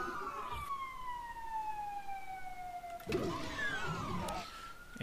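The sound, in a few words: ambulance siren passing by outside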